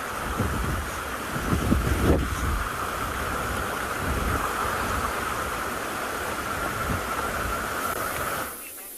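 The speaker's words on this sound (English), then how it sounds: "It is certainly a windy afternoon here as well" Wind on a cold afternoon safari at Ngala, South Africa, buffets the microphone in a constant rumbling roar, gusting stronger early on before cutting off near the end.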